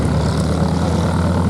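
A Bristol Blenheim propeller bomber flies at an air show, its engines giving a brief, loud, throbbing propeller drone.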